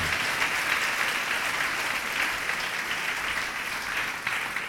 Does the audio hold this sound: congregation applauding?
yes